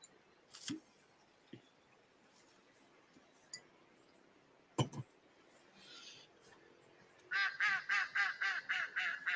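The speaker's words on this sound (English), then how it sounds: "It's a duck." Beside a flowing river, a duck gives a few sparse calls at first, then a run of about ten rhythmic quacks close by near the end, set against quiet water ambience.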